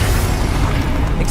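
A Confringo explosion spell bursts in Hogwarts Legacy, a dense low rumbling blast filling the short moment, loud and close with no talk over it.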